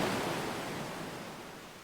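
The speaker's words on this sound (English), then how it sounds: "Accompanied by a wall of angry water, Junpei shot out of the room and into the opposing wall" Rushing water flooding out of a room in the video game 999, a dense broadband roar like surging surf that fades slightly over under two seconds, with no voices.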